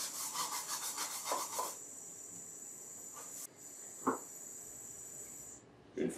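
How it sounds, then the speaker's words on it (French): A brush scrubs residue off a protective panel of a Total 1 unit during cleaning with hot water. Quick rhythmic scrubbing strokes come first, then a steady electrical hum with a few isolated knocks and taps. "Nettoyez le panneau de protection à l'eau chaude. Brossez tout résidu."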